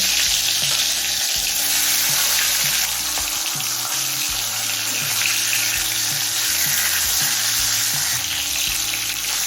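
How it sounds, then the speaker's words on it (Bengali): Loud continuous crackling and sizzling of hilsa fish heads frying in oil heated on high flame, with a low background hum throughout. "তেলটা হাই ফ্লেমে গরম করে নিলাম এবার মাছের মাথাগুলো ভেজে নেব"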